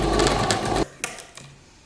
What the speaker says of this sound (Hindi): यहाँ पर हम डबल सिलाई लगा लेंगे ताकि हमारी सिलाई मजबूत रहे।